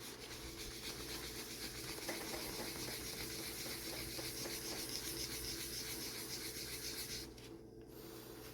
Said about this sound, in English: I'm going to rub it with a regular paper towel.